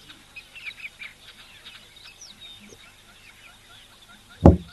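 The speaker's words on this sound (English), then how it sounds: "A couple of little birds flying around, trying to just see what they are." Small birds at an African waterhole give faint, scattered high chirps over soft outdoor ambience, and a single sharp thump lands near the end.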